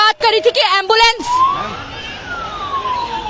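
An ambulance stuck in a crowd of protesters sounds its siren in a loud, slowly rising and falling wail that follows a moment of close talking.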